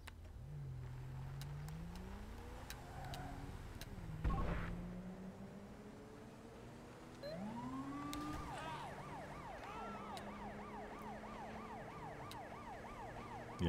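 A video game police siren wails, sweeping up and down over a revving car engine, the siren growing louder and rapidly cycling in the second half.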